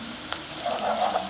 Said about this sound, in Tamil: வெங்காயத்தை நான் ரவுண்டாக வெட்டி வச்சுருக்கேன். கொஞ்சம் வதங்கட்டும்.